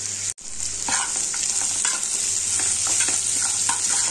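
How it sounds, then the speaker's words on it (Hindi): Poha ingredients, boiled potato pieces with salt, turmeric and red chilli powder, frying and being stirred in a pan over low flame, a steady close sizzle with repeated soft scraping strokes, no talk. "इन सारे सामग्री को फ्राई करेंगे।"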